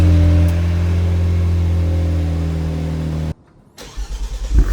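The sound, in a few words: Genesis G70 with Borla exhaust starting up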